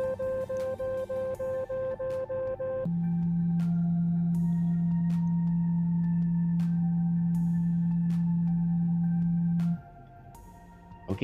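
An Android phone speaker-cleaner app plays its mode 2 tone: a pulsing higher beep for a few seconds, then a long steady low hum that stops near the end, with faint clicks and no talking.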